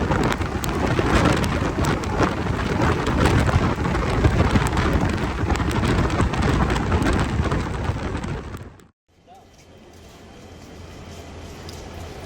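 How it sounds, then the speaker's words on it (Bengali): Heavy rain pours outside the Bangalore–Howrah Express, a loud dense roar of rain and wind that runs for about nine seconds, cuts out abruptly, then returns as a much quieter steady hiss. "বাইরে সাঁটিয়ে বৃষ্টি হচ্ছে"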